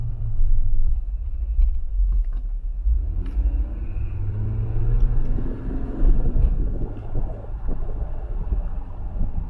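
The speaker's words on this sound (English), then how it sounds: "We'll take the speed bumps without slowing down." A Jeep Wrangler JLU with a 2.5–4 inch SuperLift lift and Shadow shocks drives over speed bumps without slowing, giving a steady close engine and road rumble with a few dull thumps.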